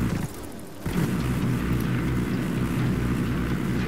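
Helicopter in the video game Ghost Recon Wildlands, a continuous loud low rotor drone with rumbling engine noise, briefly dipping near the start before returning steady and close.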